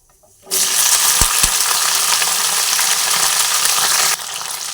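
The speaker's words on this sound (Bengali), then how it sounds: "আমি এখন ভেন্ডিগুলোকে তেলের মধ্যে দিয়ে ভেজে নিচ্ছি" Okra (bhindi) dropped into hot oil in a wok bursts into a loud, steady sizzle that holds for several seconds, then drops slightly lower; a couple of soft clinks come just before the frying starts.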